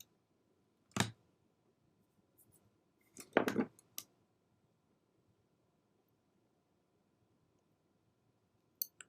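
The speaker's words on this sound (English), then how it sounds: "since that's uneven, I'm just going to snip it off." Scissors snipping the uneven edge off a vintage paper ornament: a few sharp, close, isolated cuts, one single snip, then a quick cluster of two or three, and a last faint click.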